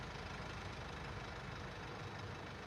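Steady low engine rumble idling without a break, a constant broadband drone that holds even and fairly close, with no voices.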